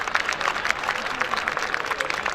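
Audience applause at a live comedy show, a moderately loud, crowded patter of many hands clapping with uneven peaks, and a faint murmur of voices beneath it.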